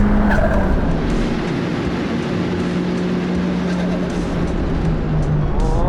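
A 430bhp turbocharged Renault Clio track car accelerates hard down a circuit straight, its engine a loud, continuous roar with a steady rising drone filling the whole stretch, no talk over it.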